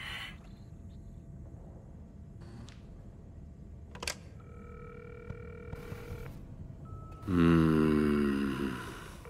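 An antique telephone in Cyberpunk 2077 gives a sustained tone after scattered clicks and faint beeps, ending in a loud, buzzy ring burst that fades out near the close.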